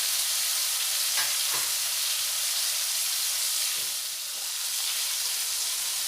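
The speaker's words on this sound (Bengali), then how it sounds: "শিমটাও খুব ভালোভাবে ভেজে নেব" Flat beans frying in a pan with turmeric give a steady, loud, even sizzle throughout, with a few soft stirring knocks and scrapes against the pan.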